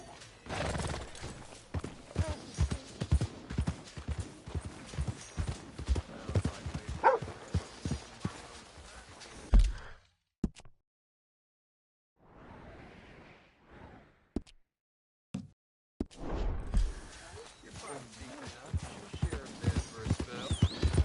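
Horse hooves clip-clop at a walking pace in Red Dead Redemption 2, a steady close rhythm that stops for several seconds around a quiet stretch with a brief snort, then resumes.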